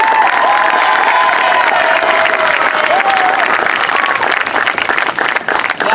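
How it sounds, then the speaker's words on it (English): Crowd applause and cheering at a high school competition halftime show, loud and sustained across the whole stretch, dense clapping with shouts and whistling tones rising above it. "So I want to give a round of applause for Maddie"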